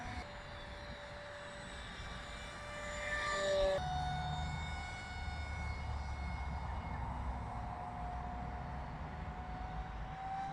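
Electric motor of a radio-controlled model airplane in flight, a steady whining drone with a tonal hum that swells slightly then holds, heard from a distance outdoors without talk.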